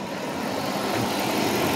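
A 1996 Mercedes SL500 engine idles steadily while warming up, a continuous broadband rumble with low hum holding at an even, fairly loud level and no talk over it.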